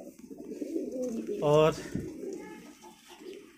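A pigeon from a pair in a nest box coos in a short, low burble, close by, with a voice speaking briefly around it and soft background noise.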